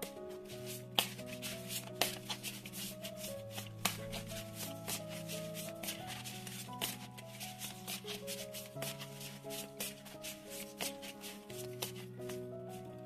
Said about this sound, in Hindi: करते हैं शफल करके।